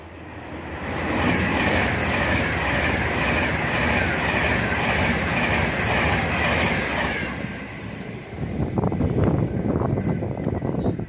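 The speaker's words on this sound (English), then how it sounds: "another set of 350s, and they're coming in to stop at signal" A Class 350 electric multiple unit passes through Stechford on the West Coast Main Line, a loud, steady roar of wheels and motors that holds for several seconds and then gives way to a rattling clatter of wheels over rail joints.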